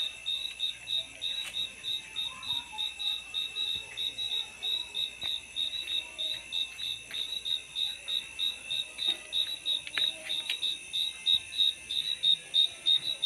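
Crickets chirp continuously at night in Axtla de Terrazas, La Huasteca Potosina, Mexico, in a high, pulsing trill, steady and close, with a quiet background and a few faint clicks.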